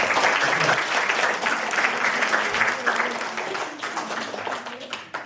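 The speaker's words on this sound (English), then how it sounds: "Give them a clap" Audience clapping for volunteers at a children's performance, steady dense applause filling the room from start to finish and tapering slightly at the end.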